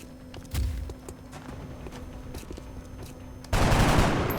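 A single gunshot in XCOM Long War rings out near the start, then a heavier burst of weapon fire near the end, with a steady game hum in between and no talking.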